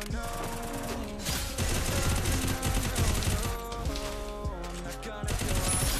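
Rapid bursts of automatic gunfire trade back and forth in a video game shootout, dense and loud throughout with music underneath and no gaps.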